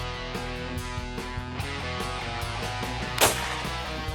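Gunshot during a quail hunt, a single sharp crack standing out clearly above a steady outdoor background with faint voices around it.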